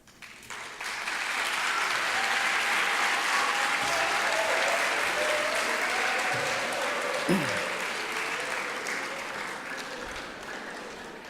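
An audience applauds at an event, a dense, sustained wash of clapping that swells quickly and holds steady for about ten seconds before easing slightly, with faint voices underneath.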